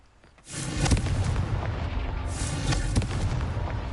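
A Confringo spell bursts in Hogwarts Legacy with a loud, close explosive boom that swells suddenly from quiet, followed by a rumbling roar and a second thumping blast.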